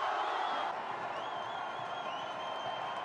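Large crowd of football fans celebrating a World Cup victory, a dense, continuous roar of cheering and whistling held at steady loudness throughout, with no distinct voices standing out.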